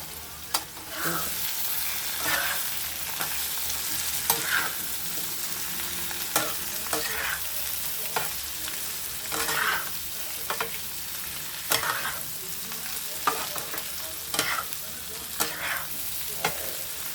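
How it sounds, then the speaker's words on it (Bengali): Potatoes frying with egg in a pan make a continuous sizzle, and a spatula stirs and scrapes again and again at an irregular rhythm, close and fairly loud. No one speaks. "এই ডিমের সঙ্গে আলুটাকে পুরো ভালোভাবে এইভাবে ভেজে নেবে"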